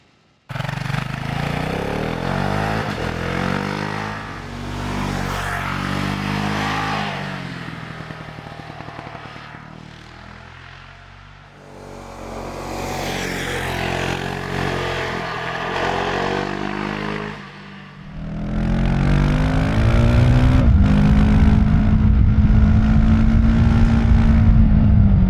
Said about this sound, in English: the sound, despite Euro 5+, is still gutsy, yet perfectly acceptable for the neighbors.